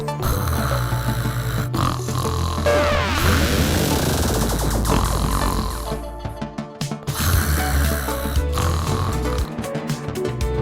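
A cartoon character snores loudly while sleeping, rhythmic snorting snores layered with music and sound effects running throughout the scene.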